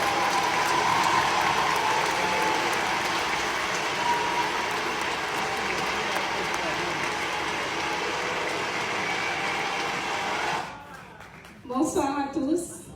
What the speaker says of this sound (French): Est-ce qu'on peut applaudir pour elle?